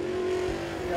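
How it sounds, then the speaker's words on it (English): A super late model race car with a Rocket chassis and B&B Performance race engine runs on track during qualifying at Crossville Speedway, giving a steady, loud engine drone with a voice heard over it. "Kenny Cobble coming out now in the 31 machine"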